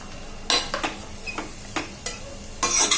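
Chopped vegetables such as capsicum and ivy gourd are sautéed for matki pulao, with bursts of sizzling and scraping as a spoon stirs them in the pan, separated by short quieter gaps, with no voices.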